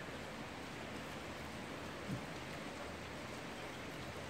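Steady, dense rain pours down in Cuenca, Ecuador, in a constant hiss, fairly soft and unbroken, with a single faint thud partway through.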